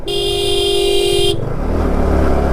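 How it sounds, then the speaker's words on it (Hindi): A loud, steady car horn blares for over a second on a monsoon ride to Purandar Fort, Maharashtra, then cuts off into rumbling traffic and engine noise nearby. "ये हॉर्न ऐसा बजाते बजाते जाना पड़ रहा है"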